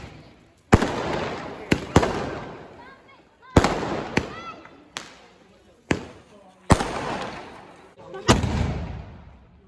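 Sky shot fireworks burst at a New Year celebration at a home, a series of sharp loud bangs several seconds apart, each trailing a crackling decay, with people talking between the blasts.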